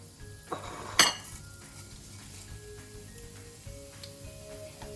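Chana dal and cumin seeds cook in a hot pan with a soft sizzle, broken by a couple of sharp utensil clinks and scrapes against the pan early on.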